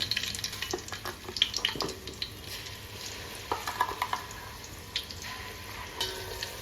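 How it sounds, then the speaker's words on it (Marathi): Garlic and garam masala sautéing in oil for a crab curry, with soft sizzling under repeated stirring clicks and light scrapes of a spoon against the pan, close and fairly quiet, no voices. "लसूण आम्ही हे गरम मसाले थोडे असे तेलामध्ये परतून घ्यायचे"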